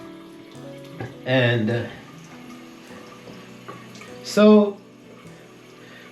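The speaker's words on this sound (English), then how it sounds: "So put a little bit more water because I'm running hot." A bathroom tap runs at the sink during a shave, a low steady trickle beneath a man's speech, with two louder bursts of sound in between.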